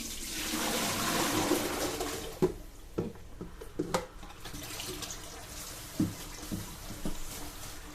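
Tap water runs over okra being washed, a loud steady rush for the first couple of seconds, then thinner splashing with scattered knocks and clatters from handling.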